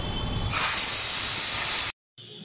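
A pressure cooker in a home kitchen lets out a sharp, loud burst of hissing steam that starts abruptly, holds for over a second, then cuts off.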